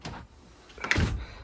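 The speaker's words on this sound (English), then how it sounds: "Close this door." A car door swings shut with a solid thump and brief rattle, close by and alone after a quiet moment, in a driveway setting during wheel restoration work.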